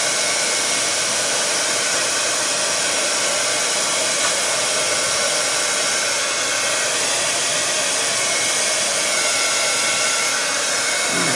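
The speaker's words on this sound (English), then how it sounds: "I can't hold the heat gun on it all the time," A heat gun blows steadily and loudly as it melts embossing powder, a constant rushing whoosh that holds unbroken throughout with no voices.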